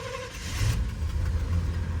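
A Chevy airport courtesy car's engine cranks and catches, then settles into a low idle with a slight rev, heard up close with no talking.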